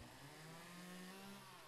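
Chainsaw cutting through bushes and trees in the Lumberjack's Dynasty video game, a steady droning engine tone that holds at an even, fairly quiet level throughout without any talk.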